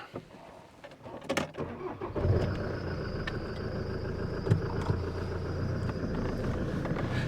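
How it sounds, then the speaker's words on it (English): A vehicle engine starts and settles into a steady running idle at moderate loudness, with a few clunks and a thin whine over the hum, heard while the clutch is tried out near a farm. "I'm just testing the clutch."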